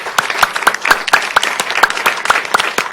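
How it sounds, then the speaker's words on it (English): A graduation audience for departing surgery graduates claps in a loud, steady round of applause, individual sharp claps clearly audible in a quick irregular rhythm, close by and without talk. "Let's give a really loud round of applause."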